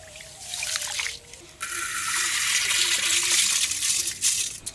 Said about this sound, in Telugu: నీళ్లు పోసుకుని 2 సార్లు ఇలా ఉలవలు బాగా కడుక్కోవాలండి